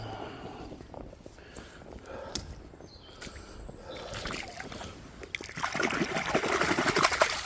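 An old 1942 WW2-era glass paste jar gets rinsed in water: soft trickling and dribbling give way to louder, broader splashing and sloshing toward the end, close by and with no talking.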